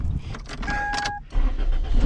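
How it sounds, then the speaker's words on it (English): An LS-swapped Chevrolet S-10 pickup sits running, its engine idling close by beneath a brief electronic beeping chime and some clunking movement. "Apparently I left my truck running."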